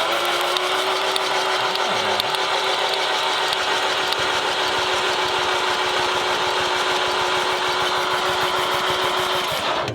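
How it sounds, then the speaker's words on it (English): A flood-damaged car engine cranks over on 12 volts with a steady, dense mechanical whirring and clatter that stays loud and even for about ten seconds, then cuts off abruptly. "Hey, that's definitely spinning."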